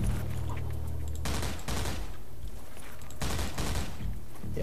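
Assault rifle fire in the video game Foreign Legion: Buckets of Blood, with loud sustained bursts of rapid automatic shots that break off briefly and then resume.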